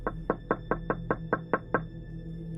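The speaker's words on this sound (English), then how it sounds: "I was startled awake by a loud knocking on the window." Eight loud, evenly spaced knocks strike a window in a steady rhythm, close and alone, then stop.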